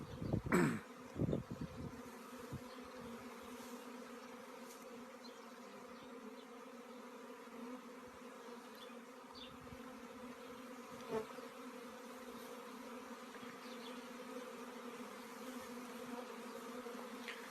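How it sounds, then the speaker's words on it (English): Steady buzzing drone of a honey bee swarm forming outdoors in the wind, a dense continuous hum with a few louder bees passing close near the start, no talk. "Swarm forming in the wind."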